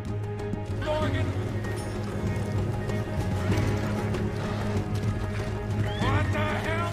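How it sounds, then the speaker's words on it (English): Horses in Red Dead Redemption II during an escape, with hooves clopping and whinnies over a continuous game soundscape, while voices shout and talk throughout. "Let's get to those horses!"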